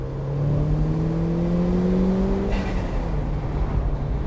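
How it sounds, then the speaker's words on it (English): A turbocharged Mk1 Mazda MX-5 accelerates hard under high boost with its rear tyres spinning, its engine note climbing steadily in pitch from close by over a few seconds, then a brief whooshing release before it pulls on. "In high boost, in conditions like this, first and second gear, just wheel spin"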